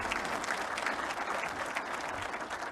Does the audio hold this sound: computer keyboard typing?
no